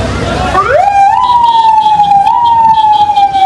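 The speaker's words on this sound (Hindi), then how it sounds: "वीडियो देखिए आप, एम्बुलेंस कैसे दौड़ रही है।" An ambulance siren rushes past in Iran, loud and close, rising from a low growl into a sustained high wail that holds steady with slight wavering to the end.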